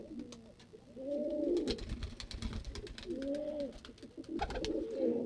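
Domestic pigeons, including a clean white one, coo repeatedly in deep throaty phrases at close range, with fluttering and shuffling noises between the calls.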